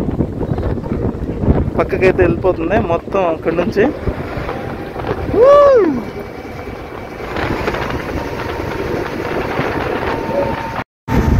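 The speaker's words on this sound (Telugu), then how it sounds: "మన బోట్ అయితే స్టార్ట్ అయింది. ఇప్పుడే ఇంజిన్ ఆన్ చేశారు." The engine of the passenger boat MV Nadiya, travelling from Rameswaram toward the Sri Lanka border, runs with a steady low rumble under wind buffeting and someone talking, with a brief rising tone midway.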